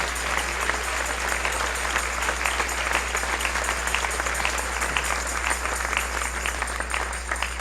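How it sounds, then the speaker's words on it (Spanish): A church congregation applauds during a Christian sermon, a continuous, evenly dense clapping from many people over a low steady hum. "Dele un aplauso al Señor en esta hermosa mañana"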